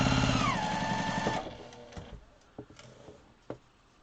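A sewing machine stitching quilt pieces runs in a fast, steady whirring burst for over a second, then stops, leaving scattered soft clicks and handling taps close by, with no talking.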